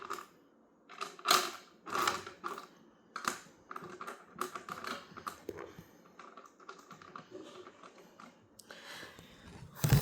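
Stones and gravel being set down in a guppy aquarium during tank setup, giving a run of close, irregular clicks and clatters in bursts, with no talking.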